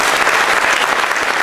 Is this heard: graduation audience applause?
yes